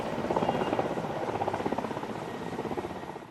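A helicopter flies in toward a helipad in Narayanpur, its loud, steady rotor thump and turbine roar pulsing rhythmically and holding close throughout.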